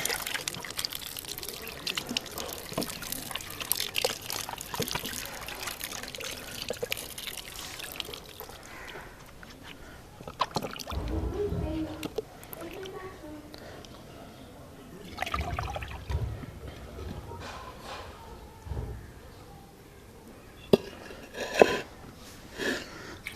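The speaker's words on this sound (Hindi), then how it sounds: "सेबों को हमने अच्छी तरह धो लेना है।" Apples being washed in clean water in a home kitchen, with irregular splashing, pouring and trickling at close range, rising and falling in bursts and ending with a few sharper drips and clunks.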